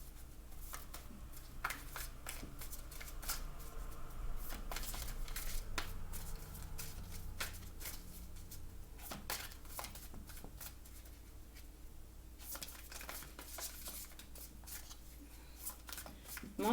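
Tarot cards are shuffled close up in a quiet room, with repeated soft riffling bursts and papery slaps spread through the stretch.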